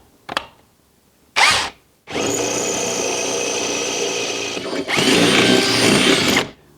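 An electric drill bores out a stock mounting hole in a Nissan Pathfinder, heard close and loud: two short trigger bursts, then a long steady whirring run and another sustained burst with a harsher grinding tone.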